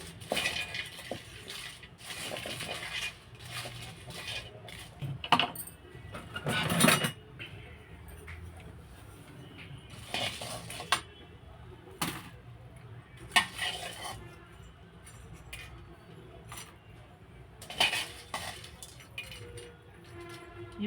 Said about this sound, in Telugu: ఇవి వేయించుతుంటేనే చూడండి ఎంత కమ్మటి వాసన వస్తుంది